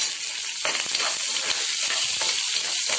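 Green chillies sautéing in a hot pan for a savoury pearl-millet dumpling dish, giving a steady close sizzle and crackle with occasional stirring scrapes, no voices.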